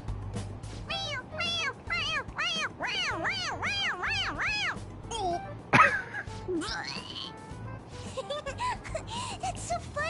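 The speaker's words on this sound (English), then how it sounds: "It meows when you press on its head." A stuffed cat toy in Persona 5 Royal gives a run of rapid, repeated rising-and-falling meows, nearly a dozen in a quick series, followed by a sharp click and a few softer cat-like calls, with faint background sounds.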